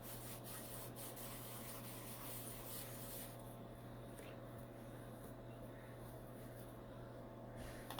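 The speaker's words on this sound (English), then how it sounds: "coming at an angle and sanding this down." Steady fine rasping of a fine emery board being rubbed back and forth at an angle on a painted marble-effect wine rack at close range, continuous and fairly quiet.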